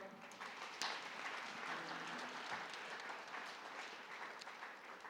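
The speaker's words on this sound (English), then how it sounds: "Please remain standing and clap for the Chancellor." An audience at a university graduation ceremony in Keetmanshoop applauds the Chancellor, a sustained crowd of clapping heard from a distance and fairly quiet, steady throughout with a faint murmur of voices.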